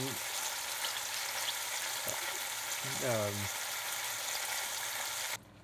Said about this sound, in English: let this saute for a little bit